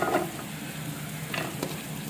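Chopped onion fries in a spoonful of oil in a pan, a continuous close sizzle with a few brief stirring scrapes and no speech.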